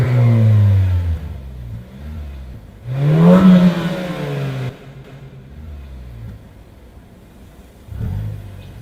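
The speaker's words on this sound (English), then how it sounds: "you hear an engine revving. It definitely sounds like an inline four, definitely sounds like a turbo inline four" A Mazda 3 turbo inline-four engine revs in loud bursts, climbing and falling in pitch with a strong surge in the middle and another short rev near the end, heard alone without talk.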